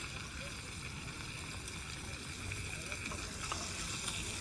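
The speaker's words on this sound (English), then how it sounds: "Let's turn this over here for a while so we can turn these poppers over" Jalapeño poppers sizzling steadily in a pan outdoors at night, a continuous close frying hiss with faint scrapes as they are turned over near the end.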